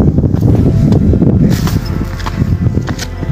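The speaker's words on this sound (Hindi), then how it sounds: "काफ़ी तेज़ हवा चल रही है" Strong wind blows outdoors high above the sea surface, buffeting the microphone with a loud, continuous low rumble and gusty rushing.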